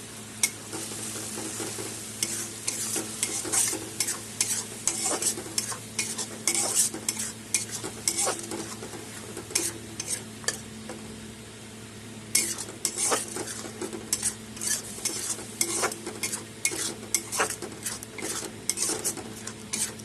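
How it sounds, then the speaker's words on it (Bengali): Spices, tomato paste and sugar are stirred in a hot pan for pointed gourd korma: a steady oil sizzle with frequent scraping and clinking of a spatula against metal, continuous throughout, with no talking. "সব এখন আমি একসাথে কষিয়ে নেব।"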